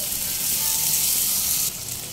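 Spice paste cooking in a pan on a low flame, for a Bengali lote fish dish, gives a steady, close sizzle and hiss that runs unbroken and eases slightly near the end.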